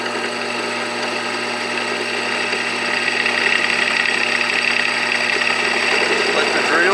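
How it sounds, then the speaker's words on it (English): A power drill runs steadily, boring a hole in a gauge face to fit warning lamps; it gives a continuous whine that rises slightly in loudness partway through. "Let the drill do the work."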